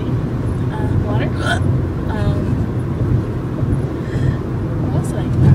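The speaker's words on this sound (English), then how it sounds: "I got hiccups." Several short hiccups sound from a person inside a car, spaced irregularly across a few seconds over a steady low road and engine rumble, with talking heard around them.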